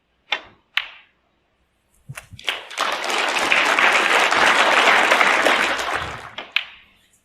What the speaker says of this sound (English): Well-deserved round of applause there.